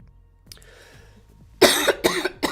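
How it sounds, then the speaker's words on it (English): A man coughs several times in quick, harsh bursts near the end after a quiet stretch with a faint throat noise, close and loud. "Man, I got a cough today."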